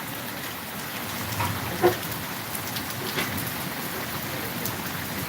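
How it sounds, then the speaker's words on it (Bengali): Steady rain on surfaces, a continuous close hiss with scattered louder drops and a brief knock, intensity holding firm throughout. "হ্যাঁ বৃষ্টির গতি বাড়তেছে"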